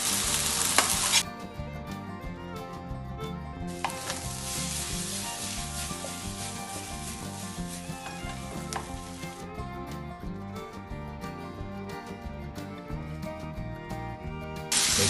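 Tomatoes stir-fried in a pan for an Indonesian eggplant and chicken gizzard dish, with a steady loud sizzle and frying hiss and repeated stirring scrapes throughout, no talking.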